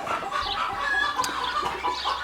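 Several chickens cluck and squawk nearby in a continuous, busy chorus.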